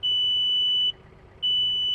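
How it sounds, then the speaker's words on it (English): A tractor's 3-point hitch assist gives a loud, steady high-pitched electronic beep, two long tones split by a short gap, with only a low hum underneath. "Once you push this down, you will then begin to hear the beeping sound."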